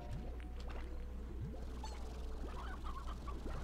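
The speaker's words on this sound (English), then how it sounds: "Chickens, I hear them. They everywhere." Chickens in the video game Slime Rancher cluck repeatedly in short, scattered bursts over a steady low background hum, with no talking.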